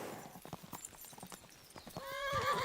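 A galloping horse's hooves clatter in quick rhythm, then a loud neigh rises near the end, in the Kingdom Come: Deliverance II video game, with the hoofbeats fairly close.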